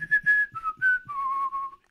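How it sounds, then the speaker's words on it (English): A person whistles the main theme from The Good, the Bad and the Ugly, a short run of clear, sliding tonal notes, close and alone with no talking. "Let's see if I can whistle this time."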